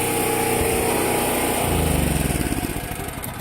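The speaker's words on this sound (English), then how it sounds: "let me turn my generator off real quick so y'all can hear me" Small gasoline portable generator engine running steadily up close, then sputtering and chugging down as it shuts off.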